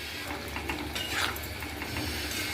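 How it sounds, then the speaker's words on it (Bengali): Ground spices and Kashmiri chili powder being stirred in a pan for vegetarian aloo dum, a soft continuous scraping and light sizzle with faint clinks of the spoon, close and fairly quiet. "এবার নেড়ে চেড়ে কিছুটা কাশ্মীরি লঙ্কার গুঁড়োও দিয়ে দিলাম।"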